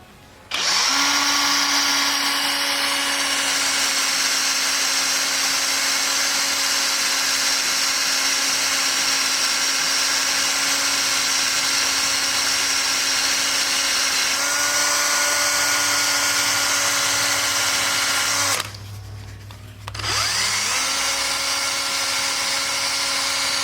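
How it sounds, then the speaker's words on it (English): A power drill spins a bolted-on shift knob for metal polishing, a loud steady whine that runs for long stretches, pitches up, cuts out briefly near the end, then starts again. "Stick it in a drill."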